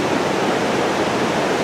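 Steady, loud rushing of water at Lanterman's Mill on Mill Creek, Youngstown, Ohio, a broadband roar that stays even and unbroken throughout, with no voices over it.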